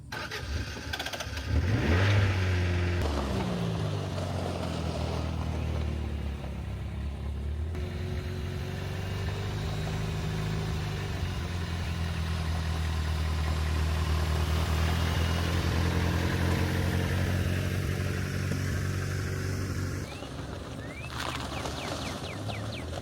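Cars are being pulled out and moved around a property. An engine cranks and catches early on, then settles into a loud, close, steady run with mild revving rises for about twenty seconds, and a second engine sound joins near the end.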